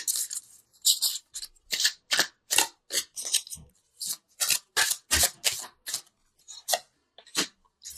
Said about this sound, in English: I wanted to pull an angel card just to bring it all together